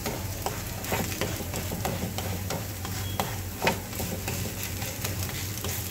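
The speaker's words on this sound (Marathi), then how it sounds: "आपण भाजून घ्यायचं आहे थालीपीठ" Cucumber thalipeeth roasts in a pan with a continuous soft sizzle, broken by sharp intermittent clicks and scrapes as it is turned and pressed, close up and steady with no talking.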